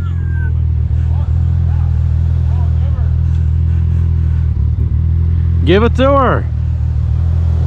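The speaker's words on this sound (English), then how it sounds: "Trailer burnouts! Trailer burnouts!" A drag car sits in a loud, continuous low engine roar during trailer burnouts at a drag racing event, close and sustained, while spectators shout and whoop over it.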